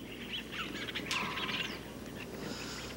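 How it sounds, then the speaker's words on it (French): Small birds chirp and warble in short, overlapping calls that stand out clearly against a faint, steady outdoor background, with no voices. "les petits cris ou les chants des oiseaux dans mes oreilles"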